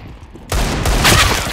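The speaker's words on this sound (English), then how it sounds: "I'm throwing a grenade." A grenade goes off in CS:GO on the de_cache map: after a quiet moment, a sudden loud blast erupts and rolls on as a rough, rumbling burst.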